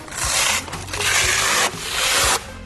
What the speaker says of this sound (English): now let's take our polishing pads off.